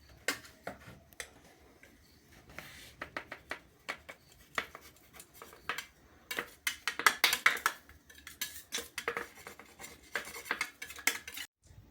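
A spoon clinks and scrapes against a container while chickpea and peanut powder is scooped in, with a series of light, irregular metallic taps and rattles, close but quiet, and no talking.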